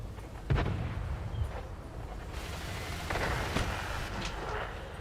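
Heavy tank cannon fire in a tank video game, a few deep booming shots with rumbling echoes over steady low engine and battlefield noise, no talking.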